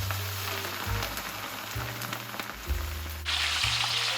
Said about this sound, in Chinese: 用筷子测一下油温，插入后迅速冒泡，就可以倒入大虾了